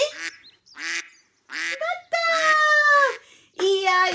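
Voices imitate duck quacks in a children's Urdu animal song, with a series of loud, nasal, honking quacks rising in pitch and close by, sung over a light backing tune.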